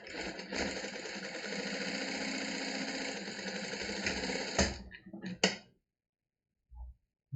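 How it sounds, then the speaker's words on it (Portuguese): A sewing machine stitching along the bottom edge of a fabric card holder, a continuous close whirring run that stops abruptly, followed by a few short bursts and then near silence. "Agora eu vou fazer a costura aqui na parte de baixo."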